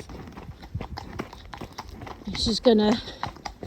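Hooves clip-clop in an uneven walking rhythm as a horse is led on a hack on a long rein after a canter, heard under talking and a breathy snort near the end.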